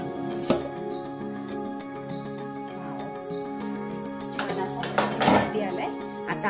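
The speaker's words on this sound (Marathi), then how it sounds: "हा ट्रे काढून थंड होण्यासाठी ठेवूयात।" Metal steaming tray of dhokla lifted out of a pressure cooker, with clinking and clattering of pots and utensils, a couple of sharper metallic knocks near the end, fairly quiet and with no one talking.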